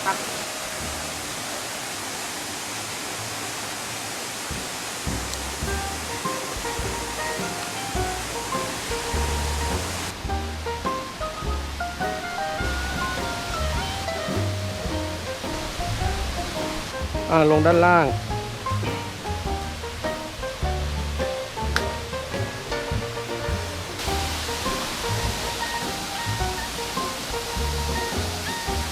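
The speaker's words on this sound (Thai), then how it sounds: "เราก็จะเห็นน้ำตกในระยะใกล้เข้ามานะครับแล้วเสียงก็จะดังขึ้น" Thung Na Mueang waterfall in Ubon Ratchathani, Thailand, gives a steady broadband rush of falling water that grows fuller while people talk over it throughout.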